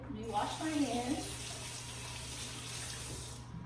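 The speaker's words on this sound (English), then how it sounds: "Let me wash my hands." Tap water runs steadily into a kitchen sink during hand washing, a close, even hiss with a brief splashy swell at the start.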